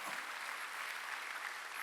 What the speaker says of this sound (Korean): 박수 치라 이기야.